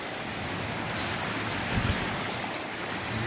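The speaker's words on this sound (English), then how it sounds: "this water is moving pretty quickly." Fast-moving floodwater of a swollen creek rushing over normally dry ground, a steady broadband roar of churning water close by, with a brief low thump midway.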